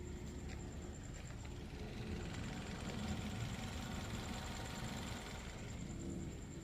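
A Maruti Suzuki Baleno's engine idles with the air conditioning off, giving a quiet, steady low hum and a faint constant high whine heard from outside the car, with no talking.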